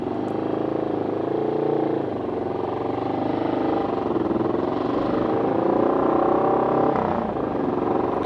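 A highly tuned British single-cylinder motorcycle engine held at a steady, loud rev, a continuous hard-edged drone with slight swells in pitch and a brief dip near the end, with no talking.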